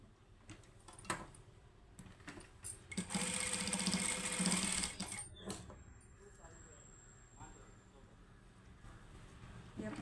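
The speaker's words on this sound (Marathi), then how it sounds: "त्याला हे याच पद्धतीने सरळ शिलाई घालून घ्यायची" A sewing machine runs a straight seam along a blouse hook strip in one short, quiet stitching run lasting about two seconds, set against a soft room background with faint voice-like sounds.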